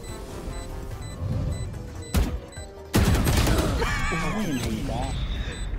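Gunfire in a shooter video game: sharp bursts of shots cracking out amid busy game noise, with a loud burst near the three-second mark and voices talking over the action.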